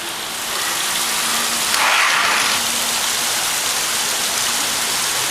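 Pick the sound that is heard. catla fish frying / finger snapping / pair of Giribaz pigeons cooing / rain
rain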